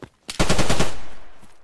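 Gunfire in the zombie survival game DayZ Rearmed: a couple of sharp shots followed by a loud rapid burst that rings out and decays slowly.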